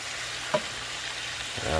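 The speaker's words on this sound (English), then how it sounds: "So the bacon's just starting to get heated up" Bacon strips spread across a pan just beginning to heat up give off a continuous sizzle, with a short knock partway through and a faint voice near the end.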